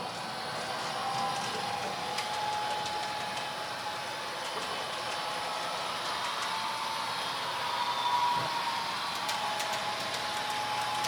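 A model train running along its layout and crossing a track turnout, a steady whirring motor hum with faint clicking, continuous and moderately quiet throughout.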